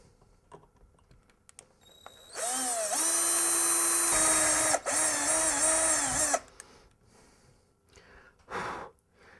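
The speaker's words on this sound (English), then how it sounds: "we're going to drill through here" A power drill whirs loudly for about four seconds with a brief dip in the middle, drilling through a Danelectro Fish and Chips EQ pedal mount, preceded and followed by quieter handling noises.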